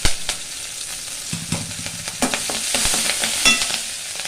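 Dried red chillies and a green chilli fry in hot oil for a millet coconut rice, giving a steady close sizzle broken by sharp spoon-and-pan clatters and stirring scrapes.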